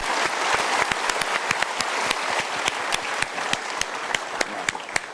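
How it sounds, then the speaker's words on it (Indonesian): A seminar audience gives a round of applause for two people, many hands clapping steadily with crisp, distinct claps punctuating the wash from start to finish. "Kita berikan tepuk tangan untuk mereka berdua."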